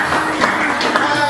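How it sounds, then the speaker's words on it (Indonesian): A classroom of students at a junior high school claps for the first group, a dense steady patter of hands that fills the room without pause. "Kita tepuk tangan dulu."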